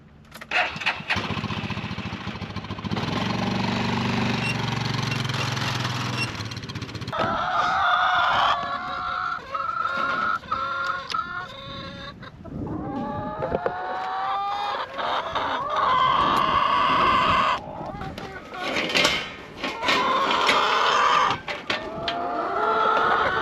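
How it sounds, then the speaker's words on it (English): Chickens cluck and squawk nearby, mixed with a rooster crowing and a loud engine droning through the first stretch. "we need to go check on the chickens"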